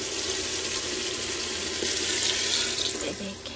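Water pours steadily and fairly loudly into a cooking pot outdoors in a village kitchen while quails are being cooked, a continuous splashing gush that swells briefly near the end.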